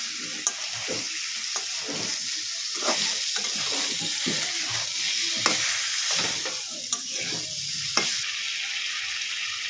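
Potatoes and Malabar spinach stalks are sautéed for a vegetarian curry, with a constant soft sizzle and bright hiss broken by scattered scraping strokes of a stirring spoon, close by and without talk.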